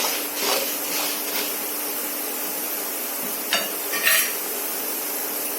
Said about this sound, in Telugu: ఆవాల సౌండ్లు వచ్చినాయి.